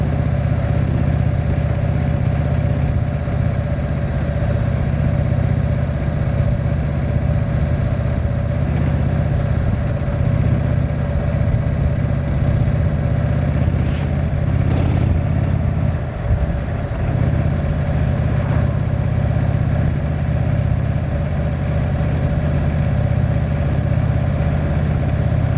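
Steady low engine drone of an Indian Chief Vintage motorcycle while riding, continuous and even for the whole stretch with wind noise and small shifts in pitch.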